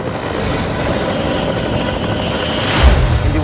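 A helicopter flying near a village, its rotor and engine producing a loud, steady, close droning roar that swells briefly near the end.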